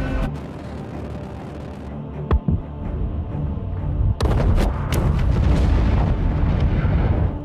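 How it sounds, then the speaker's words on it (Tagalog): A reactor plant blown up by the CIA in an action film scene: a loud, sustained roaring blast with a sharp boom partway through, then a heavier, continuous rumbling explosion. "sinimula ng pasabugin ng CIA ang buong planta ng reactor"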